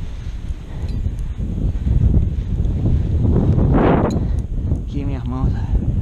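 Strong wind blows across a beach during paragliding ground practice, a loud continuous rumble and buffeting against the microphone with gusts swelling midway, while someone speaks briefly near the end.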